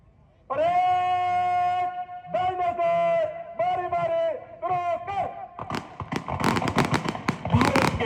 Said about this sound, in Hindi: गणतंत्र दिवस के अवसर पर हर्ष फायर की कार्रवाई का यह पहला क्रम मैदान के बीचों से दिशा चलता हुआ